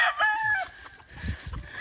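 An old Penny Hatch gamefowl rooster gives one loud, close crow, followed by softer clucking and rustling from birds nearby.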